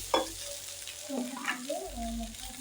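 Vegetables are stirred with salt in a pan while cooking for a Bengali tilapia curry, giving close, soft scraping and sizzling with a low hum underneath and no talk.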